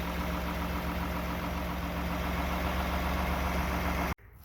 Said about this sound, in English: how well this engine runs at its real idle speed, here you go